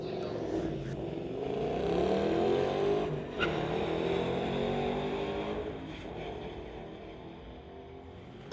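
A 2014 Ford Mustang and a 2021 Tesla drag race down a street-legal strip, with a steady engine drone that rises and fades as the cars pass, under an announcer's talk.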